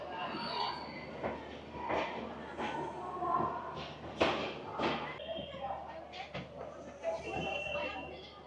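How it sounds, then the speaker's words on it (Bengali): The Tebhaga Express to Balurghat pulls out of Kolkata terminal station with faint rolling and rail clatter and scattered clanks, heard under ongoing talk on the platform. "আজকে 24 তারিখে আমাদের ট্রেন ছেড়ে যাচ্ছে কলকাতা স্টেশন থেকে"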